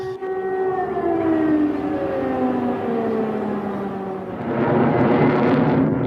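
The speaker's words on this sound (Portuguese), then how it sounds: "Sirenes de ataque aéreo tocaram na capital." Air raid sirens wail continuously over a Ukrainian capital, with rising and falling tones, loud and steady, joined by a broader roar of noise toward the end.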